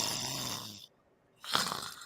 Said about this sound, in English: I can't hear you over the sound of the voice snoring.